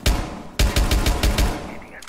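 Gunfire in Rainbow Six Siege: a loud opening shot, then a pause and a rhythmic string of about six sharp, evenly spaced reports that trail off into quieter sounds.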